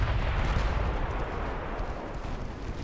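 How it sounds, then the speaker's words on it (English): Naval guns boom and rumble in a dense, continuous barrage during a warship battle in Ultimate Admiral Dreadnoughts as torpedoes are sent into an enemy group. The heavy, overlapping low thuds are loud and close, with no talking. "let's go ahead and send some torpedoes into that group"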